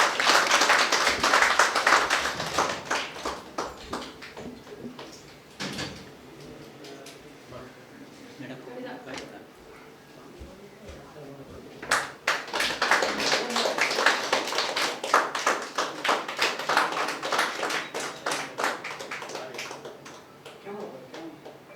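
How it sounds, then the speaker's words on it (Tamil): An audience claps hands at a Tamil astrology talk, bursts of brisk clapping at the start and again in the second half, with a quieter gap of sparse claps and murmur between them. "கொஞ்சம் கைகளை தட்டி கொஞ்சம் ஆரவாரம் பண்ணுங்கள்"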